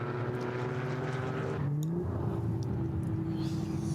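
The Black Falcon SP7 race car sweeps past during an NLS endurance race at the ADAC ACAS Cup, its loud engine note dropping in pitch as it goes by.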